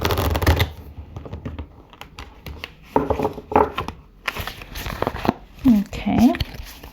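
Tarot cards riffled and shuffled on a tablecloth in several uneven bursts of papery flutter and taps, fairly close, with soft handling noises between them.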